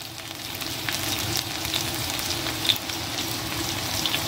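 Chopped garlic and asafoetida sizzle in hot oil in a pan for a soybean dish, with a steady close crackle and a few light scrapes as the mix is stirred.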